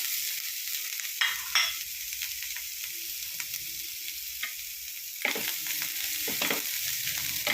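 Green chilli, ginger and grated coconut sauté in a hot pan, a steady bright sizzle with occasional louder crackles and stirring scrapes, close and without talk.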